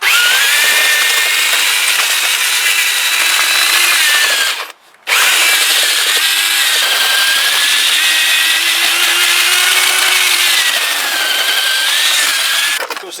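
A drill-driven paddle mixer whirs steadily through thick pointing mortar for brick repointing, loud and close, pausing once briefly before spinning up again.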